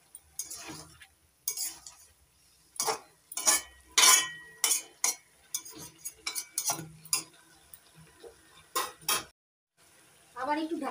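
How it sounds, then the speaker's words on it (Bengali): Paneer stirred and mixed in a pan for a healthy broccoli dish, with a utensil repeatedly clanking and scraping against the metal in irregular bursts separated by brief pauses. "পনিরগুলো ভালো করে নাড়াচাড়া করে মিশিয়ে নিচ্ছি।"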